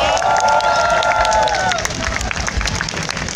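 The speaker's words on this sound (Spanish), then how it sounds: "Un aplauso para todos ustedes," A concert crowd cheers and applauds in a dense, loud burst, with whoops and voices on top that drop away after about two seconds, leaving steady clapping and crowd murmur.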